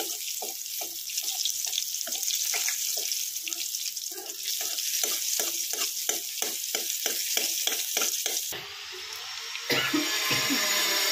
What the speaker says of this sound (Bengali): লেজার দিকটা আমার ভাজা হয়ে গেছে, এবার দিয়ে দেবো আমি মুড়োর দিকটা